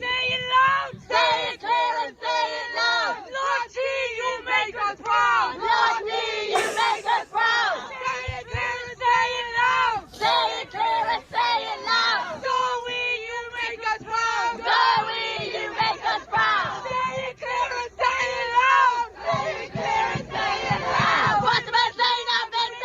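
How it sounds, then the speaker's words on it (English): A large crowd yells and cheers in sustained waves, loud and dense throughout, with individual voices rising above the roar. "They like proper cheering"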